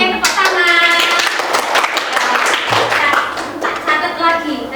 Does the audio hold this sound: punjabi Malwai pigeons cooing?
no